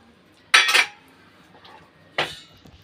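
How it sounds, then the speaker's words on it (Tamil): Two bright clattering splashes of about ten ice cubes dropping into a bowl of water, a quick cluster first and another a moment later, with a faint shuffle between. "அது கூடவே ஒரு பத்து ஐஸ் கியூப் சேர்த்துக்கிறேன்"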